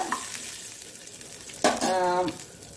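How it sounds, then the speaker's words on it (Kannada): Chillies frying in oil in a pan while making pumpkin chutney for ragi dosa, a soft sizzle with a sharp metallic clink of utensil against pan midway, close, with no speech. "ಸ್ವಲ್ಪ ಫ್ರೈ ಆಗುವಾಗ ಈ ಮೆಣಸನ್ನು ಸಹ, ನೀವು ಗ್ರೀನ್ ಮೆಣಸು ಸಹ ಹಾಕ್ಬೋದು ಅಥವಾ ಕೆಂಪು ಮೆಣಸು ಹಾಕ್ಬೋದು"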